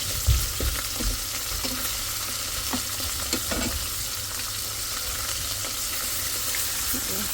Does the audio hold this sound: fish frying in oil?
yes